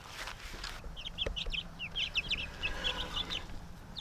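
Backyard chickens clucking nearby in a run or coop, a steady stream of short, quick clucks and chirpy calls over a low background hiss, with no talking.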